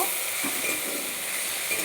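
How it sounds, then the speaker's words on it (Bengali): Vegetables frying in a pan with a constant hissing sizzle and a few soft scrapes of stirring, close up and without speech. "আবারও আমি একটু নাড়াচাড়া করে ভেজে নেব"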